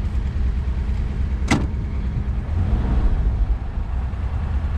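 A 1966 Ford Thunderbird convertible's engine runs steadily at idle, a loud continuous low rumble with one brief sharp click or knock partway through.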